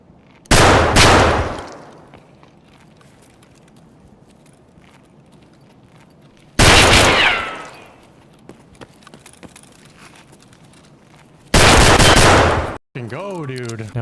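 Gunfire from the video game Escape From Tarkov rings out in three loud, rapid volleys separated by quieter stretches of ambient movement.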